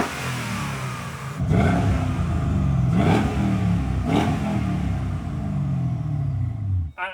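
A Saleen Mustang engine is blipped on the throttle, three sharp revs rising and falling over a steady rumbling idle, loud and close, with a clattering tail at the end.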